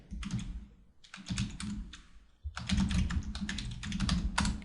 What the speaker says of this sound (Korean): 제가 글꼴 변경하기라고 입력해 볼게요